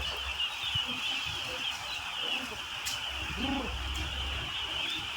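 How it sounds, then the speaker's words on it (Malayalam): A steady chorus of high, thin peeping from a crowd of ducklings, with a brief lower call rising above it midway. "ഇതിൻ്റെ കുഞ്ഞു താറാവ്"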